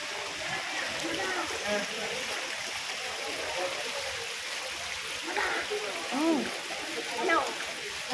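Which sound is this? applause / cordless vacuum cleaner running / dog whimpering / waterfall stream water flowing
waterfall stream water flowing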